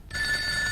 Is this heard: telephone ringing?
yes